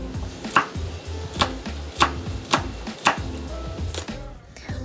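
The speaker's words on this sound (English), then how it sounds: "To prep, we are going to chop our garlic." A knife chops garlic on a cutting board during calamari prep, five or six crisp, evenly spaced blows close by, with a low kitchen hum underneath and no talking.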